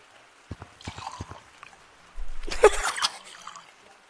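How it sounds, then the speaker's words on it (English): Water from a pond in the game Gorilla Tag: a few soft taps, then a brief splashing, pouring rush lasting about a second before it fades to quiet. "The fact that we're taking water from the pond."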